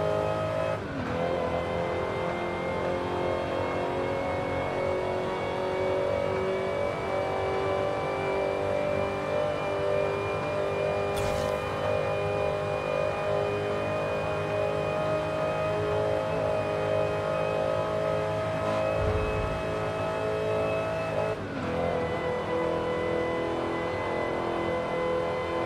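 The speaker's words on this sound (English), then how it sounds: "A Corvette and Supra racing." Two cars, a Corvette and a Supra, race in Forza Horizon 5, with a steady loud engine drone throughout, rising and shifting in pitch as they accelerate, and a couple of brief sharp transients along the way.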